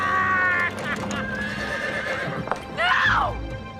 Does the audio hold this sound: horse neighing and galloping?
yes